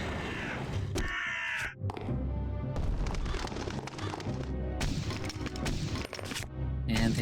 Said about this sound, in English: Oh, more crows.